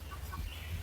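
Young chicks and guinea fowl raised on a farm cluck softly in a short burst, a few faint calls over a steady low background hum.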